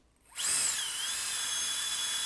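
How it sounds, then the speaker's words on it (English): An electric handheld air duster switches on at its lowest speed setting, spinning up quickly to a steady, high-pitched whining whir that holds constant for about two seconds after a brief silence. "So that feels like what I expect out of a normal electric handheld duster."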